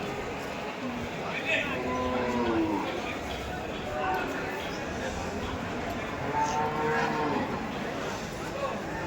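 Bulls moo repeatedly at a busy cattle market in Dhule, with several drawn-out, low calls of mid loudness over constant crowd chatter and background bustle.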